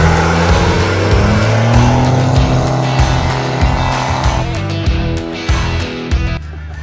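A modified truck engine roars loudly nearby, revving in surges with sharp bursts and chattering hiss as the turbo blow-off vents between pulls.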